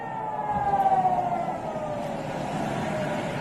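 Civil defense air raid sirens wail during an attack on Jammu, a sustained rising and falling tone sounding from a distance over a low rumbling background, with no voices.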